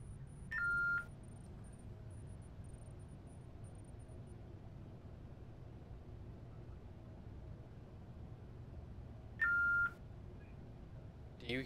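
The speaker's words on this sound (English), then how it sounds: "Oh, my phone is beeping." A phone gives two short, distinct beep bursts several seconds apart, each clear and brief against a quiet, steady low hum with no talking.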